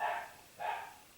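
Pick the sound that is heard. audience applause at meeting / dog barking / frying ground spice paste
dog barking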